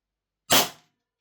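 One sharp, close crack from an EMG Staccato CS 2011 gas blowback airsoft pistol, a single short shot with a quick decay, alone in otherwise silent surroundings.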